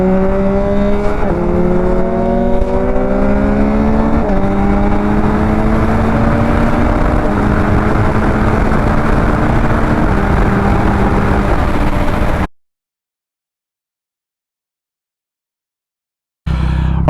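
A Yamaha MT-09 motorcycle rides along a road, its engine droning loud and close as it climbs through the gears with rising and falling revs, then cuts to silence before resuming briefly.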